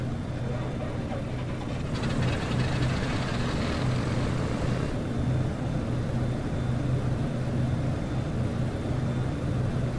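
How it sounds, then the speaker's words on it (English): Left engine of a BN-2 Islander twin-prop aircraft spinning up in Microsoft Flight Simulator, a steady low engine drone that swells and roughens partway through, continuous and fairly loud with no talk over it. "And we will start the left engine."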